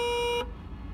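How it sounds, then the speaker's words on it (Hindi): Horn of a Hero Karizma ZMR motorcycle after a major service, one fairly loud steady tonal beep held for under half a second before cutting off to quiet background noise. "आपको हॉर्न सुना था, सुनिए आप हॉर्न।"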